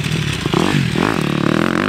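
A dirt bike's throttle rolls on smoothly through a corner, the engine rising in pitch with a clattery, nearby buzz over two seconds.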